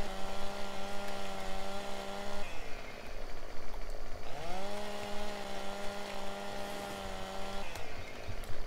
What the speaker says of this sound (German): Und da geht einfach mit der Säge dran und zack ist das Ding weg.